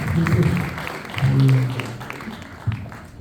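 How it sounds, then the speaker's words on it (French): Church congregation in Nouméa applauding, a moderate burst of clapping mixed with voices and low tones that fades toward the end. "On peut applaudir ça pour sa parole"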